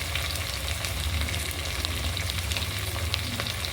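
Green chilli pieces frying with ginger in a pan, a steady close crackle and sizzle that runs continuously with no talk over it.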